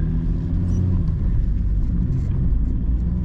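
A 1989 BMW 524td diesel car pulls away slowly, its engine a low, steady, lazy rumble heard close up from inside the cabin.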